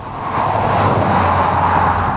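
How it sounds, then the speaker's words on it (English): Pontiac Solstice roadster exhaust note at steady highway cruising speed, a continuous low engine drone with road noise, loud and near, without any talk. "the exhaust note is purposeful without being overly intrusive when cruising down the highway"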